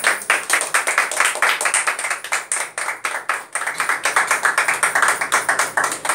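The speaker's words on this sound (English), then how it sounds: "Let's clap, my God." Students in an institute hall clap together after a story skit, producing crisp, rhythmic hand claps at a steady quick beat that is loud and close, with a couple of short pauses.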